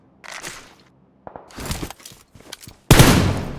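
Gunfire in a battle royale game: scattered bursts of shots, then a loud sustained volley of rapid fire at the end.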